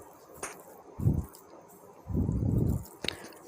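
Fish masala paste being mixed by hand with no water added, giving two soft squelching bursts, one short and one longer, close up with light taps between them.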